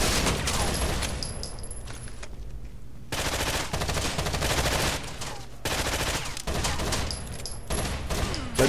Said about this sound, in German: Einfach mal blind in die Ecke geschossen.